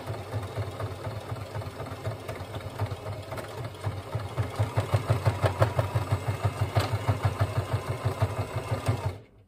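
A sewing machine runs repeated passes to reinforce a stitch on a Berghaus Munro backpack, a fast, even needle chatter that grows louder and steadier midway before cutting off abruptly at the end.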